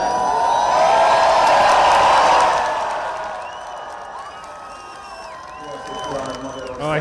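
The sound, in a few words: crowd cheering at Hungarian election rally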